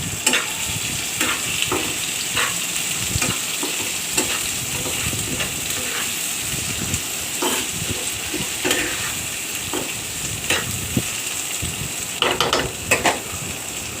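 Thick-cut potatoes fry in oil in a pan with a constant close sizzle, broken by irregular scrapes and knocks of a utensil stirring against the pan.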